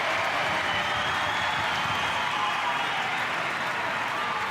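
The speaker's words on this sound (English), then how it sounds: "all the Mariners fans cheering and clapping" Central Coast Mariners fans cheer and clap in a football stadium, a steady, dense wash of crowd applause that holds at an even level throughout, with faint commentary beneath it.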